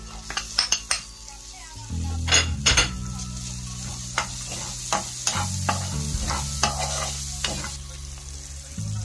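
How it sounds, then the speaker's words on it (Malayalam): Green chillies fry with garlic and ginger in a pan for a fish pickle, a steady sizzle broken by repeated scrapes and clinks of a spoon stirring against the metal. "നന്നായി ഫ്രൈ ആയിട്ടുണ്ട്"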